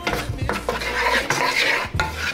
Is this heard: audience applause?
no